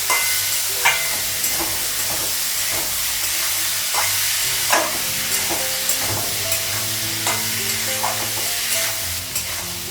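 Potatoes frying in a pan crackle with a continuous close sizzle, broken by intermittent scrapes and taps as they are stirred, with no one talking.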